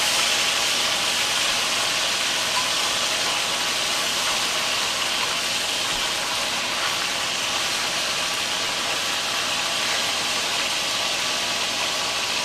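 Oxtails browning in a pot give off a steady, close sizzle, a dense even hiss that holds at constant loudness throughout with no talking.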